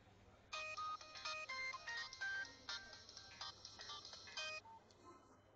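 A telephone ringtone plays a bright repeating electronic melody in an office setting, steady and fairly close for about four seconds before cutting off, with no voices.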